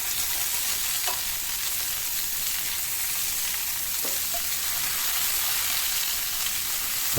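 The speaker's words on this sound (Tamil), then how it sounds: "நல்லா பரட்டி விட்டு ஹை ஃப்ளேமில் வச்சு நம்ம இதை நல்லா டாஸ் பண்ணி ஃப்ரை பண்ணிக்கலாம்" Mushrooms fry and are tossed and stirred in a pan over a high flame, with a steady close sizzle throughout and a few brief scraping knocks from the stirring.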